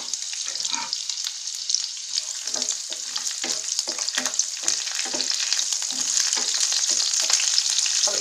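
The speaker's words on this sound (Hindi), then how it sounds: "डाल देंगे लहसुन, अदरक और हरी मिर्च, इनको भी हम कुछ सेकंड के लिए भून लेंगे।" Garlic, ginger and green chillies frying in a pan for a vegetable curry, a steady close sizzle with repeated stirring scrapes throughout, no talking.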